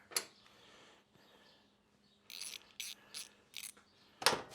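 Ratchet wrench turning out the radiator bracket screw on a Honda CRF250 dirt bike, heard as short close bursts of clicking separated by pauses, with a sharp final burst.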